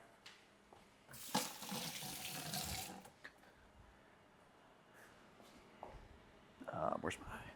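Water runs from a kitchen tap in bursts as a knife is rinsed, a close splashing rush that stops and restarts, with quiet talking in between.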